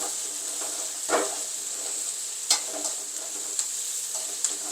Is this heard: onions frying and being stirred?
yes